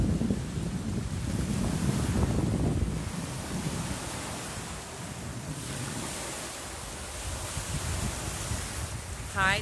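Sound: wind blowing on lakeshore

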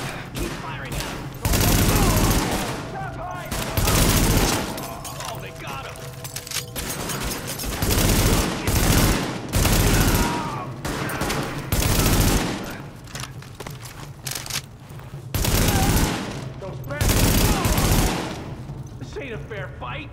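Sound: gunfire in a shootout, from the video game The Division

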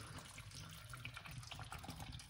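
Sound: pouring organic coconut water into pineapple beetroot juice

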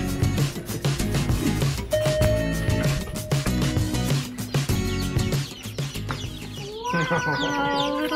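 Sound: chickens clucking

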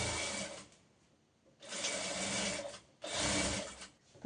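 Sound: sewing machine stitching a princess-cut blouse lining

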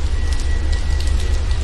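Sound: rain falling

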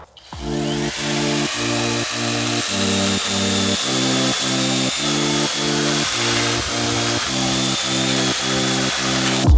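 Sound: SKIL 0512 CA cordless mini saw cutting dry wood

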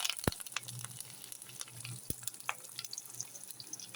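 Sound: mustard seeds and curry leaves spluttering in hot oil

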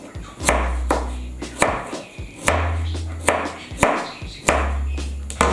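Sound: knife thinly slicing food on a cutting board

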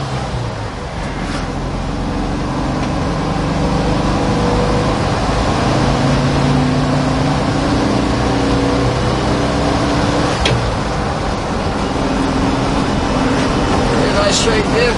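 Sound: 1969 Volkswagen pickup driving

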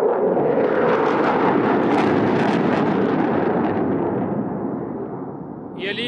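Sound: F-15SA multirole fighter jets flying past

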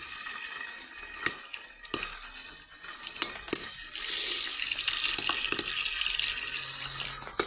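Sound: popcorn popping in a pot while stirred

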